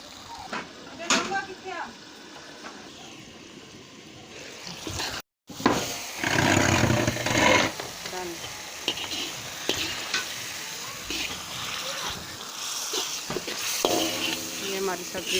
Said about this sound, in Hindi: बस इसका थोड़ा सा पानी और खुश्क कर देते हैं।